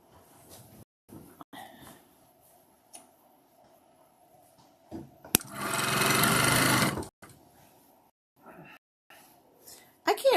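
A domestic sewing machine stitching a log cabin style quilt runs in one loud steady burst of rapid stitching, surrounded by quiet handling clicks and someone talking softly.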